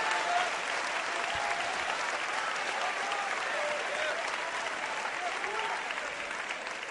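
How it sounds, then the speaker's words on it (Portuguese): A Portuguese-speaking church congregation applauding during a sermon, sustained dense clapping that stays loud and even throughout with a faint murmur of voices beneath. "Então aplauda Ele e sirva a Ele."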